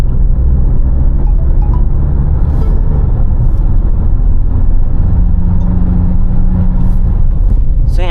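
A Tata Harrier Dark Edition SUV is driven in sports mode, its engine droning loudly and continuously over heavy road rumble, with a brief squeal near the end.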